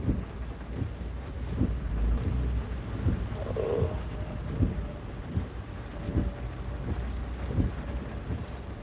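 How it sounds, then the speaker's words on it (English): Rain and distant thunder rumble faintly during a rainy-day drive home in traffic, with low rolling booms and soft recurring thumps under a steady wash of road and wind noise; no talking. "it's nice to have some rain"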